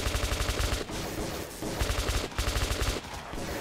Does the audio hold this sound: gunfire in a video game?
yes